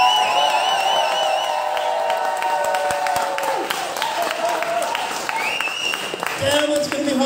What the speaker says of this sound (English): So let's have a cheer.